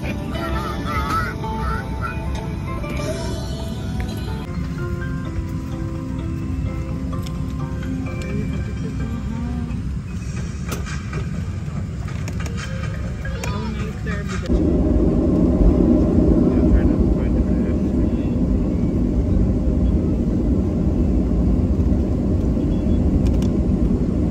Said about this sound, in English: we're on the plane now